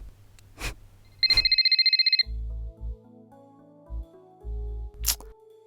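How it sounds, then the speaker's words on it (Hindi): A mobile phone left lying around at home rings with one short, rapid electronic trill, set among scattered clicks and low synthetic tones in a quiet room. "आपका फोन कितनी देर से बज रहा है"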